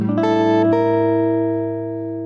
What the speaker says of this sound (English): A suspended with a flattened ninth